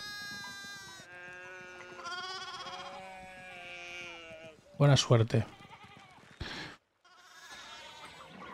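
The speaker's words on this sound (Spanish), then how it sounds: "necesitamos recuperar el control de estas ovejas" Sheep in the medieval video game Pentiment bleat in wavering, nasal cries over soft game ambience. A voice speaks briefly, and a louder burst of bleating comes near the end.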